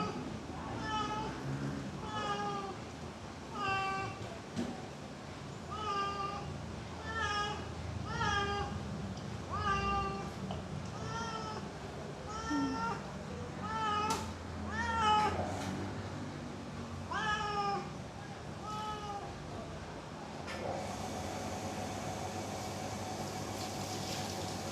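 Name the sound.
cat meowing during a bath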